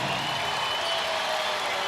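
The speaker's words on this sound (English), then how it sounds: "Let's hear the crowd." A packed basketball arena crowd at an Iowa Hawkeyes vs Maryland Terrapins women's game sends up a steady, dense roar of cheering and applause that holds unbroken throughout.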